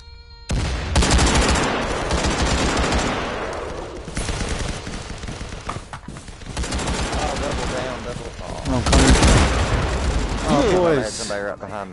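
Gunfire in the virtual-reality shooter Firewall Zero Hour rattles in dense, sustained automatic bursts, loud and close, with a voice talking over parts of it.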